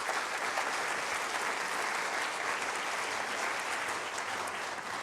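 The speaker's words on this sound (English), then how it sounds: "need to give yourself a little bit of applause" An audience at a health system staff gathering applauds, a dense steady round of clapping that holds at an even level throughout.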